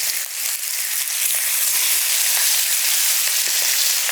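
Steaks sear in a hot cast iron pan with a steady, dense sizzle and crackle, loud and close throughout with no talking.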